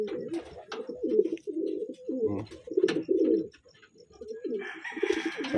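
Several pigeons coo close by in soft, throaty, rolling bursts, overlapping in an uneven rhythm, with a brief rustle and light bird noise near the end.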